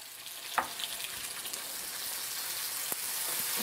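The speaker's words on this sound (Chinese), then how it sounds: "稍微用油把它炒一下" Tomatoes stir-frying in oil in a hot wok, a steady close sizzle with a couple of sharp spatula scrapes and clinks over the frying noise, no voices.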